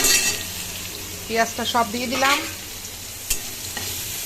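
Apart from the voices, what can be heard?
onion frying in oil with black cumin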